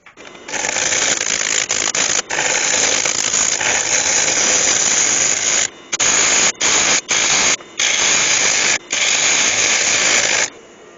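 A lathe turning tool cuts into spinning railway sleeper wood for a bowl, a loud, harsh, hissing roar in long bursts broken by brief pauses where the tool lifts off.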